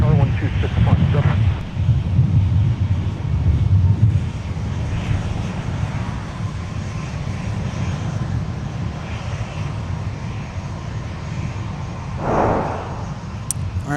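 Aircraft engines roar steadily at Minneapolis–Saint Paul airport, a loud continuous low rumble with wind buffeting the microphone, swelling slightly near the end and running without a break through the whole stretch.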